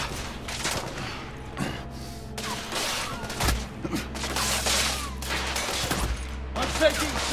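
Dense suppressing gunfire in The Order 1886 video game: sustained volleys of rifle and automatic weapon shots crackling nearly continuously, with heavy booms and bursts layered throughout at close range.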